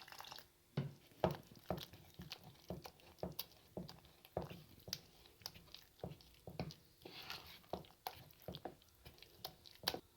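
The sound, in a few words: mixing potato pakora batter with water into paste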